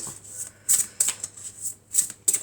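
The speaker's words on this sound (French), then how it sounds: "je vais tirer 5 cartes." Oracle cards drawn one by one from a deck, giving a series of soft, crisp card slides and snaps in an irregular rhythm, close and fairly quiet with no talking.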